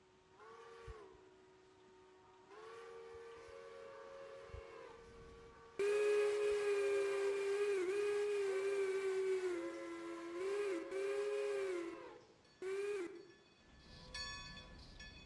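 A passenger train's steam whistle from the railroad game Railroader sounds in several sustained blasts, two shorter calls first and then a long loud wavering blow broken into bursts near the end, with hissing steam after.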